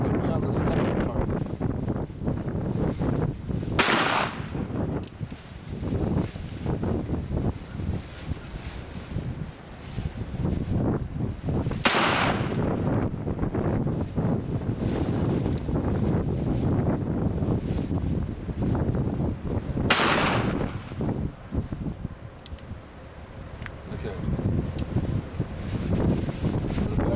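Three sharp revolver shots from a Colt Walker fired at a target outdoors, evenly spaced several seconds apart, cracking loud over steady wind noise on the microphone.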